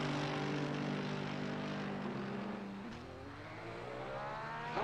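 A race car in the Assetto Corsa Competizione game accelerates out of the pits at Imola, its engine roaring loud and steady, then dipping briefly at a gear change before rising again.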